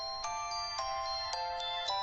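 A mobile phone ringtone plays a repeating bright electronic melody with evenly spaced chime-like notes, clear and close, with no talk.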